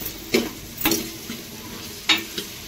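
Long beans, carrot, brinjal and potato tumbled into hot spiced oil for sambar and stirred, giving a soft sizzle with a few scraping stir strokes, fairly close and with no talk.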